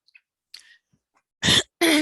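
Two loud, harsh coughs burst close to the microphone late in a quiet stretch of a planning and zoning commission meeting, following a few faint clicks and rustles.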